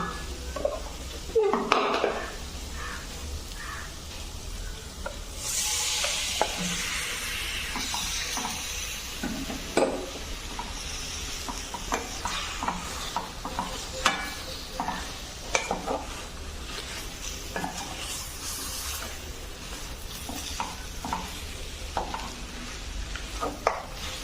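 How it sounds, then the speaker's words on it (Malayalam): Chicken pieces tipped into fried masala in a pan and stirred, with a steady sizzle and recurring scraping and clinking strokes against the pot. "ഇനി നമുക്ക് ഇതിനകത്തേക്ക് ചിക്കൻ ചേർത്ത് കൊടുക്കാം"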